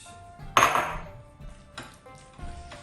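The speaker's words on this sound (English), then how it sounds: "I'll stir this all together" A utensil stirs mayonnaise into a shrimp mixture in a bowl, giving a few clinks and scrapes against the dish with soft wet mixing between them, close and fairly quiet.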